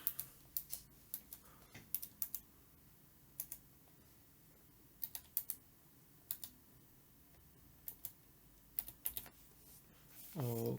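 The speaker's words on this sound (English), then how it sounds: "Now I gotta enter my password." Someone types a password on a computer keyboard, a quiet, irregular string of individual key clicks in short bursts spread across the clip, with a louder rustle at the very end.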